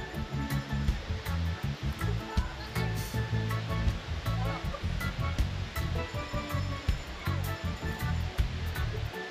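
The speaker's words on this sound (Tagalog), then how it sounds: "Balabag Falls." Balabag Falls in Quezon, a waterfall roaring with dense, continuous rushing water, loud and steady throughout, with faint voices underneath.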